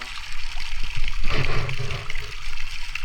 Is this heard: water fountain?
yes